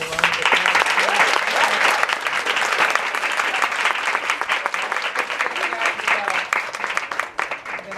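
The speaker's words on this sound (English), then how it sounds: "Give him a round of applause." Sustained audience applause at a 2021 band banquet awards event honoring the assistant director, a loud, dense wash of many clapping hands continuing steadily throughout, with faint voices mixed in.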